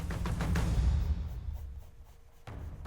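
Pencil on paper sketching fur: quick, close scratchy strokes come in a rapid rhythm and soften into lighter scratching, followed by a fresh stroke near the end.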